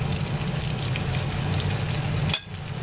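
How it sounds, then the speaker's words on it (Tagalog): Butter and flour roux for lasagna sizzling and frying in a pan, a steady close crackle with light stirring that cuts off abruptly and drops to a quieter hiss. "Lutuin lang natin yung harina. Ang mga chef tawag dito, roux."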